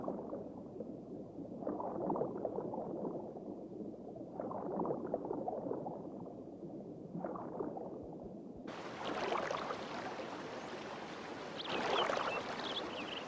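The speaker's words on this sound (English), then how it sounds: "This river otter slides into a Colorado stream in search of a meal." A river otter sliding into and moving through a Colorado stream, with splashing, gurgling water in soft bursts that turn into brighter, louder sloshing over the last few seconds, with no talking.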